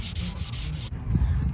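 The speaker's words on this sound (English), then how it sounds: "Now I'm going ahead and using 220 grit sandpaper over my primer." Sanding primer with 220 grit sandpaper during body work on a Saab 9-3, heard as quick, close back-and-forth rubbing strokes in a steady rhythm, then a brief shift to softer, duller scuffing.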